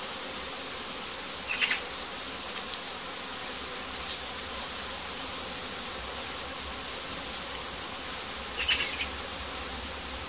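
Constant buzzing from honeybees at the hive of a queenless swarm, steady and fairly close, with two brief louder passes of a single bee flying near.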